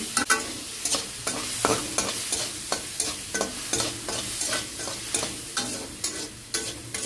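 A spatula scrapes and stirs vegetables frying in a pan with salt and turmeric for a vegetarian dish, producing steady rhythmic strokes over a continuous soft sizzle, close and clear with no talking.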